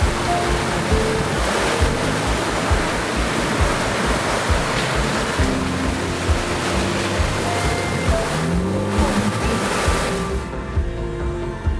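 A Jeep pushes through a fast, deep-running river in the Badlands. Loud rushing and churning water fills the whole clip with a continuous close roar, and no voices are heard.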